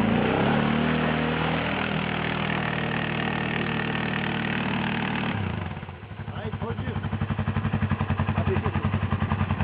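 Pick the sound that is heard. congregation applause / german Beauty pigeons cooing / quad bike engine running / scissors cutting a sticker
quad bike engine running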